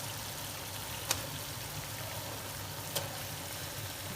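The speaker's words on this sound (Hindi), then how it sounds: "ये सारे कबाब इसके अंदर ऐड कर दें" Fried chicken seekh kebabs sizzle in oil in a handi, a steady moderate frying hiss throughout with a couple of brief sharp clicks.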